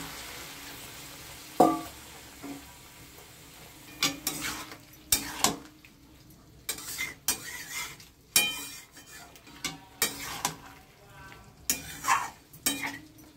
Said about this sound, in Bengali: অল্প অল্প করে জল দিয়ে আমি মশলাটাকে ভালো করে একটু কষিয়ে নেব।